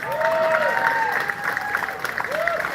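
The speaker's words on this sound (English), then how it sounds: "a big round of applause for her" A crowd at a live podcast taping gives a round of applause, moderately loud and sustained throughout, with crowd murmur and a vocal tone sliding up and down over the clapping.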